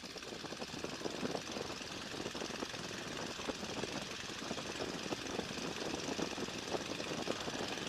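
A small airplane's engine running up for a pre-flight check gives a loud, steady, rough drone with a rapid pulsing texture. It holds unbroken throughout, with no talk.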